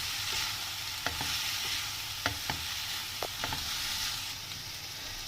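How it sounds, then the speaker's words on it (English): Fenugreek leaves sizzle steadily in a pan while a spatula stirs them, giving a few sharp scrapes and clicks against the metal over a constant frying hiss. "So until then you can just keep stirring it in between like this."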